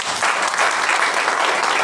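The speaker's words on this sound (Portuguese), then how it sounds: "Amém? Aplaude a Jesus." A burst of steady applause from a church congregation, dense and even throughout, with no voices standing out.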